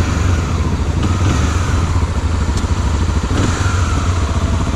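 A fuel-injected Honda XRE 300 motorcycle engine idles steadily nearby with a smooth, even hum and no revving, loud and unbroken throughout.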